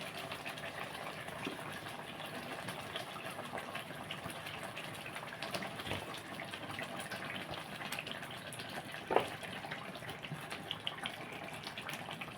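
Water poured into a pan of fish pieces for fish curry, a faint steady running trickle with a small clink near the end.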